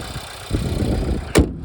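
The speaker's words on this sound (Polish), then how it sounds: "silnik pracuje dobrze, równo, cicho, tak jak być powinno" Skoda Octavia 1.5 150 hp petrol engine idling smoothly and quietly, a steady low hum up close with one brief louder knock or thump near the end.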